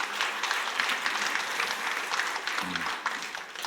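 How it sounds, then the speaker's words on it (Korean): A church congregation at a Sunday afternoon worship service applauds steadily throughout, a dense sustained patter of clapping at moderate volume, with no voices rising above it. "우리 하나님께 영광의 박수 올려드릴까요?"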